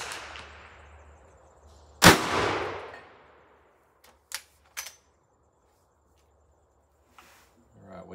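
A rifle fires a .44 Magnum Hornady 225-grain FTX bullet into a ballistic gel block: one loud, sharp shot with a decaying boom, followed by a few faint clicks and light handling sounds.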